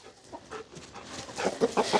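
Several chickens clucking and squawking close by, short choppy calls growing busier and louder toward the end, no talk.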